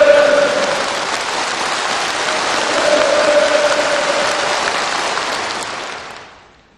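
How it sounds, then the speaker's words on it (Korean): Delegates at a party congress fill a large hall with thunderous sustained applause and cheering, a dense unbroken roar that holds steady for several seconds before quickly fading out. "전체 대표자들이 펼치는 우렁찬 만세 환호성이 대회장을 진담했습니다"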